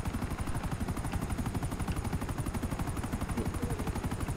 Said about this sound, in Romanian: Oh, fuck, vine un elicopter.